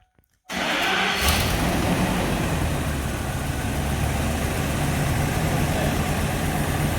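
Brief silence, then a car engine cold-starts and settles into a steady, rumbling idle that holds evenly to the end, with one cylinder misfiring.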